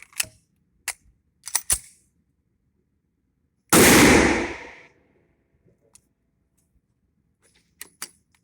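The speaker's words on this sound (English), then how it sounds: "we'll fire one more round and see how it goes." A single sharp blast from a Smith & Wesson M&P pistol chambered in .357 SIG rings out loud and close, with a decaying tail lasting about a second, framed by small clicks and handling noises and no talking.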